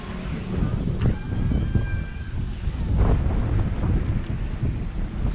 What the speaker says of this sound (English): Now we're starting to feel a little bit of the wind.